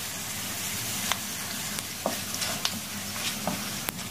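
Chili powder sautéing in hot oil for a homemade papaya pickle gives a steady close sizzle, broken by a few sharp scraping clicks of a stirring spoon against the pan.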